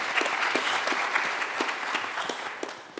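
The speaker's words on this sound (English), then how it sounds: "Waiting for a short round of applause there." A short round of audience applause at a nuclear energy talk, a steady crowd patter with a few sharper individual claps standing out, gradually thinning toward the end.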